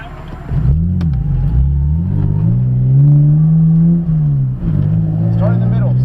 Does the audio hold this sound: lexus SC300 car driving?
yes